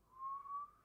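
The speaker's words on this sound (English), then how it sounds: "I can whistle." A single person whistles one steady, sustained note lasting under a second, close and fairly quiet, with no other sound.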